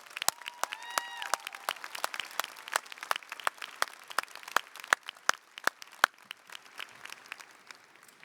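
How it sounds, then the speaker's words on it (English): Audience applause at the Florida Southern College 2026 commencement, honoring a staff member's 37 years of service: steady, moderately distant clapping from a large crowd, with a brief voice over the start. "Just to be sure we recognize Mr. Dennis, I would like for us to applaud him in his 37 years of service."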